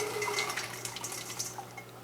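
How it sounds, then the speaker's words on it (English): Water from a pot of pasta pours into a sink in a home kitchen, a steady close splashing stream with scattered drips, running alone without talk. "I'm actually going to drain just a little bit of the water"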